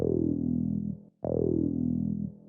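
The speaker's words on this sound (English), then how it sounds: "Another synth layer is this long acid sound." Two long sustained acid synth notes in a minimal deep house style, each starting with a sharp attack and a bright resonant sweep that slowly darkens, separated by a brief gap, alone with no voices.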